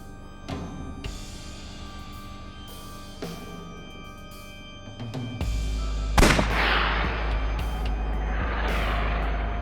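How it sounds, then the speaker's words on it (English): Revolver gunshot in a video game, a sharp loud crack followed by a sustained low rumble and lingering noise, preceded by a few fainter clicks and thuds. "Can we use the bullets we found earlier? This could work. I'll try shooting it."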